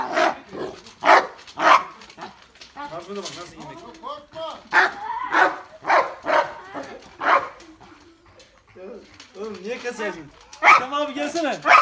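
Large dogs, Cane Corso and Dogo Argentino, bark in loud, repeated bursts near a new dog house. Whimpers and yips mix in, and people talk in between.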